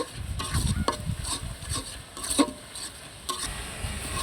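Spice paste with chili powder stir-fried in a pan for chital fish curry, a scraping spatula stirring in uneven strokes over a low steady sizzle, close and moderately loud with no talk.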